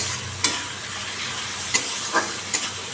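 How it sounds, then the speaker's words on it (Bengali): Spice paste frying in oil in a pan for an potato and cauliflower curry, giving a steady sizzle with a few sharp clinks and spoon scrapes scattered through it. No distinct pour of water stands out. "এবার জল দিয়ে দেবো।"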